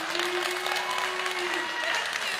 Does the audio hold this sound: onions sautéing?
no